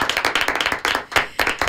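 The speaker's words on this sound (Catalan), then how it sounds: "un aplaudiment per ella" Studio audience clapping for a female guest on a Catalan talk show, with brisk, distinct claps in a quick irregular rhythm, close and fairly loud, and no talking.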